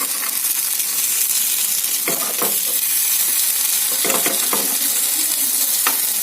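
Eggs being turned over in a hot frying pan, a steady sizzle of frying broken by a few scraping, clinking turns of the spatula against the pan.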